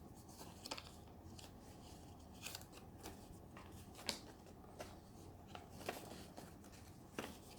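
Paper being folded for an origami chair: soft creasing rustles and occasional sharper crinkles at close range, quiet and intermittent over faint room noise.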